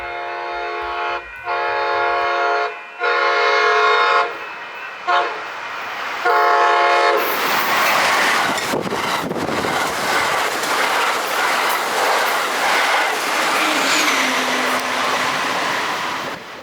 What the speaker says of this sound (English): the final train of the day would be this northbound Surfliner train